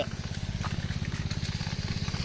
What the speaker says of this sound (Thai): เร่งเครื่องเบาๆนะครับ